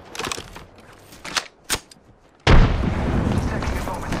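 A frag grenade goes off in the video game Apex Legends: after a few short game sounds, a loud broadband blast hits and rolls into a sustained rumble and crackle.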